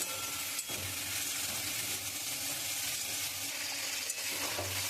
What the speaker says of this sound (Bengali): খুব ভালো করে নাড়বো।